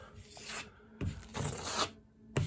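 A trowel scraping and rubbing drywall compound across a ceiling in several slow smoothing strokes, soft and close.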